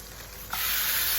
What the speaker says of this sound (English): the meat has been marinating now about 24 hours or so, and it's ready to be fried